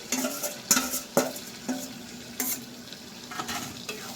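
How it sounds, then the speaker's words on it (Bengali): Chicken for chicken kosha poured all at once into a hot pan, sizzling steadily with sharp scrapes and clatters of a stirring utensil at irregular intervals, close and moderately loud with no talking. "চিকেনটা দিয়ে দিচ্ছি। পুরোটাই একবারে ঢেলে দিলাম"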